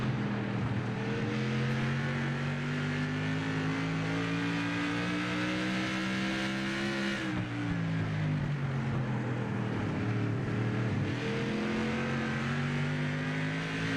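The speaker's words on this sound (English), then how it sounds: "You hear him really having to work the throttle there on that bottom line." Onboard a modified-series race car at Thompson Speedway, a loud engine drones steadily, rising in pitch, dipping sharply as the throttle lifts midway, then climbing again as the driver works it through lap traffic.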